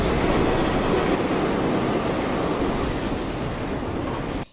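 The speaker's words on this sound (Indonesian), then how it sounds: "kereta yang mendekat membuat James teralihkan perhatiannya" A train rumbles and rattles steadily along rails in a film scene, loud, dense and close throughout before cutting off abruptly.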